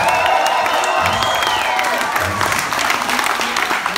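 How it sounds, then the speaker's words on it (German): Crowd applause and cheering at a breakdance competition, loud and close, with clapping, whoops and shouts from young voices. A host's amplified voice runs over the noise. "please make some noise, kurz Applaus für alle B-Boys und B-Girls in dieser Kategorie."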